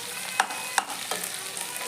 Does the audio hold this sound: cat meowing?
no